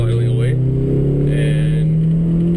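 A car engine idles with a faulty VVTi oil control solenoid, giving a steady, loud low hum with a rough, shaking tone, heard under close talking.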